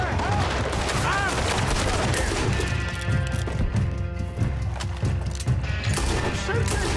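Red Dead Redemption 2 gunfight with loud, rapid gunshots and booming impacts going on nonstop, while voices shout and talk over the shooting.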